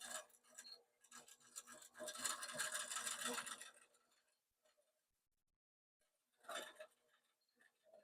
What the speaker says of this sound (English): all we're doing is basting at a snail's pace